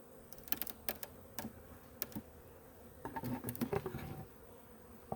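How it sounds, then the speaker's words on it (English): Honey bees in a beehive during a hive check, a soft low buzz with scattered clicks and rustling from handling the frames, faint and steady throughout. "Some bees."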